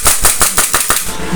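An HPA-powered airsoft gun fires a rapid burst of about seven sharp, evenly spaced pops, loud and close, with the hiss of the air tank setup trailing after the shots stop.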